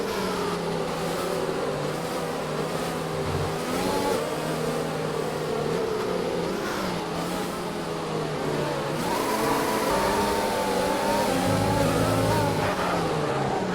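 A Mercedes in a racing video game revs hard through repeated burnouts, its engine roaring steadily and loudly with rising and falling pitch throughout, no speech.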